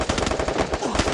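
Rapid automatic gunfire in the battle-royale video game Free Fire, a loud, dense burst of evenly spaced shots hammering continuously for about a second without pause.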